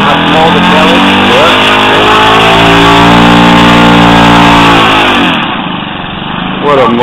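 A Saito glow engine drives an RC Super Decathlon model airplane on its maiden flight, a loud, steady droning buzz that shifts in pitch as the plane passes, with people talking nearby throughout.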